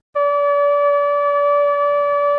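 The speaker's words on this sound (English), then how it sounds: "Altogether, our drone sounds like this." A synthesizer drone patch begins abruptly and holds as a clean, steady tone with a few even overtones, sustained and unchanging with no talking.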